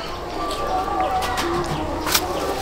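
Rampuri pigeons in a home loft give soft, low cooing calls with a few brief chirps, close by and fairly quiet under light background noise.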